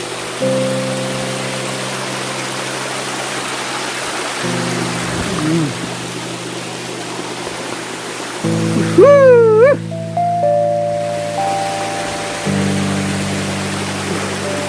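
Water pours down a rocky stream at the Raikal falls near Warangal, a constant hiss of flow running under steady musical tones for the whole stretch.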